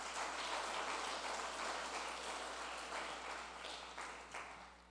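Church congregation applauding during a Portuguese-language sermon, a dense steady wash of many hands clapping throughout, fairly distant and even, tapering slightly at the end.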